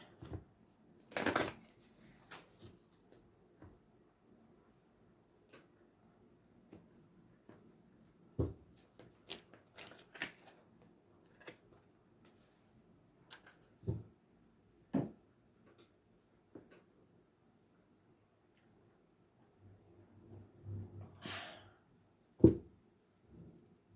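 Tarot cards being shuffled and dealt, soft scattered taps, flicks and card slaps at close range with quiet gaps between them, faint and without talk.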